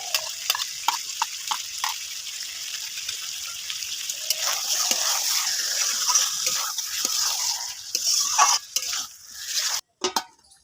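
Marinated mutton for a Bengali mutton curry is stirred in a pan, with a soft sizzle under scraping and clinking of a spatula against metal, closer and busier toward the end.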